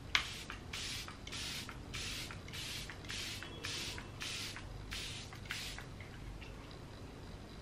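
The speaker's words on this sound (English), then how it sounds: "Charlotte Tilbury Airbrush Flawless Finish Setting Spray." Charlotte Tilbury Airbrush Flawless Finish setting spray misted from a pump bottle in repeated short hissing bursts, roughly a dozen sprays in a steady rhythm, close and fairly soft, with no talking.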